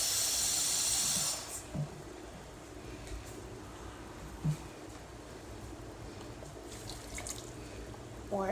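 Water from a tap runs in a loud hissing stream for about a second while filling a cup for a fish cake mixture, then stops, leaving faint kitchen clinks and quiet room noise.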